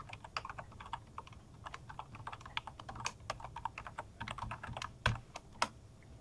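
Keys are typed on a computer keyboard to log in, giving quick, irregular clicks up close, fairly soft, with a couple of heavier key strikes near the end.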